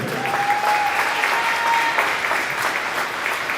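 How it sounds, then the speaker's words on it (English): Applause from a crowd at a girls' varsity basketball game honoring a senior player, a steady, dense clapping that fills the gym for several seconds without talk. "One more round of applause for our senior"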